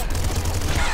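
Rapid dense gunfire from the Bouncer gun in Nuclear Throne, a brief continuous burst of overlapping shots.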